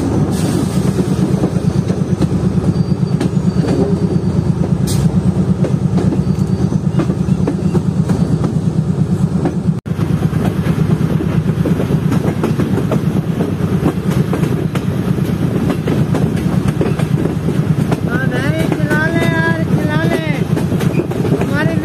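The Tezgam passenger train rolls slowly along a yard line with a steady, close rumble and faint rhythmic wheel clatter, while a voice talks over it near the end.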